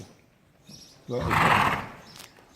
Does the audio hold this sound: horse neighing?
yes